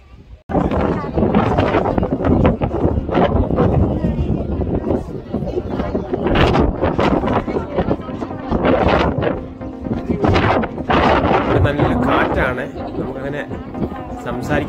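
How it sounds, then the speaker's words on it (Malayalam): Strong wind roars and buffets the microphone at a hilltop viewpoint overlooking Jerusalem, a loud, continuous broadband rush with gusty surges and voices buried underneath. "സൗണ്ട് പോലും കാറ്റ് സൗണ്ടാണ് കേൾക്കാൻ പറ്റുന്നത്."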